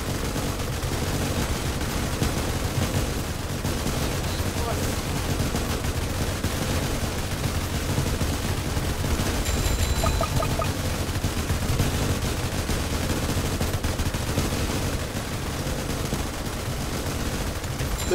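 Continuous machine-gun fire from a Roblox Tower Defense Simulator gunner tower rattles on without pause, a dense, even barrage at moderate loudness over a constant low rumble of game noise.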